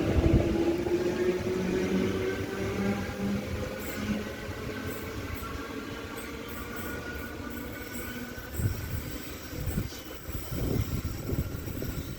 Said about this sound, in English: a train passing platform 1. You just saw the... Oh, it's a freighter